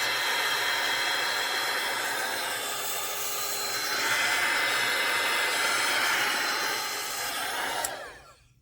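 A Gator electric sander runs steadily, making a loud continuous whirring hiss that rises slightly midway and then cuts off abruptly near the end as the motor winds down.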